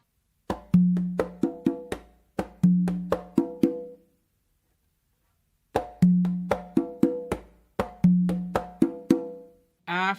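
Tumba conga pattern of bass strokes, finger slaps and ringing open tones, played close and clear in two repeated phrases of sharp hits separated by a short silence.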